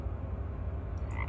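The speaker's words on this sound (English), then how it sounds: "Frog." A frog croaks in the puzzle adventure game Mystery Trackers: Raincliff, a low, rhythmic pulsing croak repeating steadily and fairly close, with a faint higher chirp near the end.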